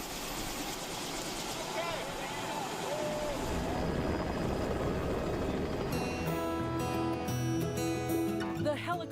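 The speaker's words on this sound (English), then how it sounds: "to go wild, we need to take that helicopter to get there" A helicopter's rotor and engine drone steadily under loud background noise, with voices and a rising whine mixing in toward the end.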